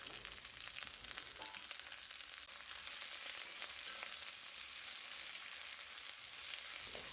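Sliced onions and green chillies fry steadily in hot oil, a dense, even sizzle that runs unbroken from start to finish with no talking.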